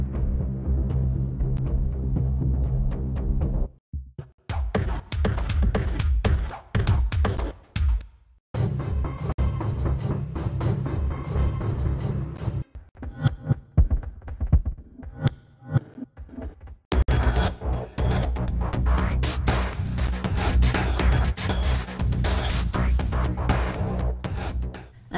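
The Schema Dark instrument for Maschine Mk3 plays a dark electronic beat of low bass pulses and percussive hits, with a few brief pauses between phrases and no voices.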